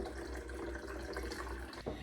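Water is poured steadily into the reservoir of an iDOO hydroponic growing system after the A and B nutrient solution is mixed in, producing a continuous close splashing rush with no talk.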